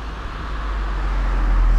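A car passes along a street, its broadband road rumble swelling steadily louder and nearer over a couple of seconds, with no talking.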